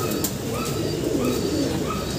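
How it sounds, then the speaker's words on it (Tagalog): Racing pigeons kept as a breeder's stock birds coo softly and repeatedly in a loft, with a steady wash of background noise. "Ito yung mga stock bird ko."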